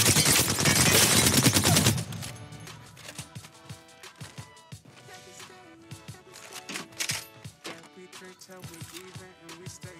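Shotgun fire in the video game Apex Legends opens with a dense burst of loud blasts, followed by scattered sharp shots and clicking, with faint game sounds underneath.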